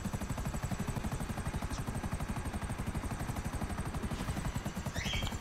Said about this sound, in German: Kev fliegt mit dem Helikopter und sagt, oh oh.